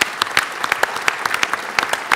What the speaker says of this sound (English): I just would like you to give a short applause to the few people Oil Gas Denmark who made a lot of work this time